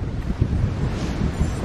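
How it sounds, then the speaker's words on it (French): Strong wind buffets the microphone in a cold outdoor vegetable garden in early spring, a loud continuous low rumble with gusty swells and no speech. "Vent et froid."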